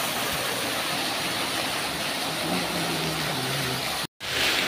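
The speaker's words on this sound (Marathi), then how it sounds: "फायनली पाणी निघलं आहे आणि पाणी आता आभाळामुळं कमी मारतं।" Water gushing steadily from an old-make 5 HP solar-powered pump, a constant broadband rushing that stays loud and unbroken for the whole stretch apart from one brief cut near the end, with no talking.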